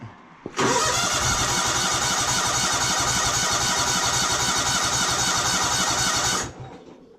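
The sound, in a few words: John Deere GT245 lawn tractor engine starting with choke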